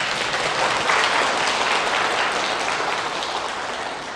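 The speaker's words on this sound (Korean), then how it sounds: "박수 한번 쳐주시죠." An audience at a Korean Catholic prayer-meeting lecture applauds, a loud, dense, continuous clapping that swells early and then slowly fades.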